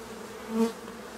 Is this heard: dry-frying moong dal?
no